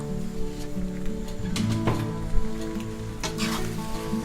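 Macaroni stir-fried with sausage, tomato and green onion in a hot pan, a soft sizzle under a low humming background, with a few clattering scrapes of a utensil tossing the food.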